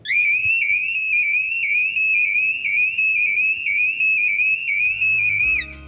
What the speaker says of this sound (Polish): To był tylko alarm próbny.